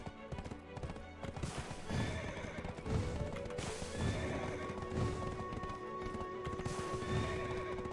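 Rhythmic hoofbeats of a galloping horse in Black Desert Online with an occasional whinny, over a steady game soundtrack and ambient background.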